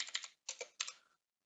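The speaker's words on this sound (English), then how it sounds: "So if you start typing in a street name," Bursts of typing on a computer keyboard as a street name is entered into a GIS mapping search field, three quick clusters of close, crisp key clicks separated by short pauses, then silence.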